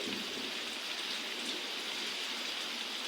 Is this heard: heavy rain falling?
yes